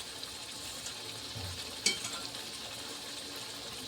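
Cooked urad dal poured into a hot pan of cooked masala, giving a steady soft sizzle with a brief splash-like burst as the lentils land, heard alone without talk.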